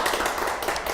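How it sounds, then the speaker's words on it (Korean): Students at a real estate tax law lecture give a short burst of brisk applause for the youngest in the room, dense clapping heard up close. "힘찬 박수 한번 쳐주겠습니다"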